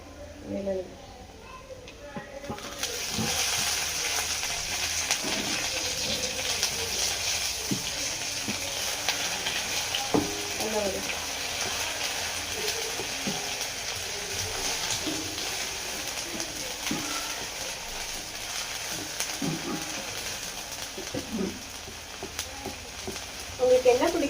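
Tomatoes dropped into a hot pan set off a broad, steady sizzling hiss that continues throughout, with people talking over the frying.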